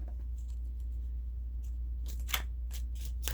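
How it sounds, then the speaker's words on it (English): Tarot cards being shuffled by hand, a quiet papery riffling that starts faint and grows into several louder bursts of crisp card flicks toward the end, with no talking. "Shuffling the deck"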